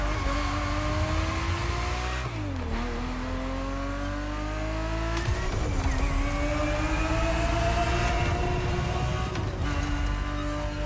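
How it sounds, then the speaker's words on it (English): A Ferrari 365 GTB4 engine in The Crew Motorfest racing game, a steady loud roar rising in pitch through the gears with brief drops at each shift, continuous and close. "The Ferrari 365 GTB4 is the perfect vehicle for you to experience Ferrari racing as it felt back in the 70s"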